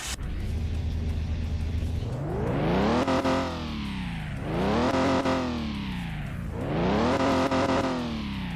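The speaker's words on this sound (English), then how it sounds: "Start the car up." An old car's engine in Car Mechanic Simulator 2021 cranks, catches and revs three times in rising, falling sweeps, loud and close with a buzzy tone, with no talking.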